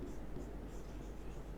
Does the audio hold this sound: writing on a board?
yes